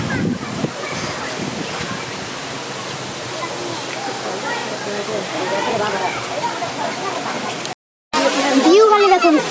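A waterfall pours over steps at Panchalingeswar, a continuous broad rush of water close by, with people talking over it and a brief dropout near the end.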